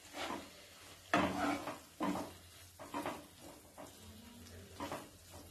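Masala with salt frying in a pan is stirred in repeated scraping strokes, roughly one per second, over a steady sizzle, close and loud, with no talking.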